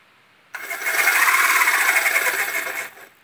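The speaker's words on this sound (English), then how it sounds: "the chain and the sprocket make more noise than my little gearbox" A small RC motor spins a little gearbox driving a chain and sprocket, giving a steady high whirring buzz that starts abruptly, runs evenly for a couple of seconds, then cuts off, loud and close with no voices.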